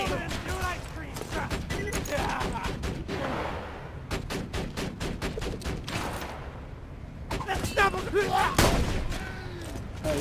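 Rapid bursts of gunfire ring out in the video game Borderlands 2, with sharp repeated shots in dense volleys, a brief lull, then more shooting as a player talks.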